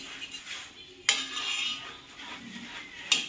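A metal spoon scrapes and strikes a hot tawa while a sandwich is flipped. Two sharp clinks stand out above a faint, steady sizzle.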